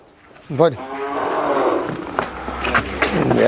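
A Murrah buffalo gives a loud, drawn-out low moo nearby, followed by rustling and shuffling in the background.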